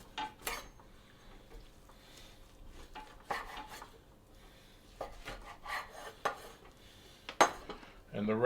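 A knife saws through a prime rib roast to cut off a chunk for cheesesteak, giving intermittent scraping and rasping strokes with light knocks of metal against the board, close by and fairly soft.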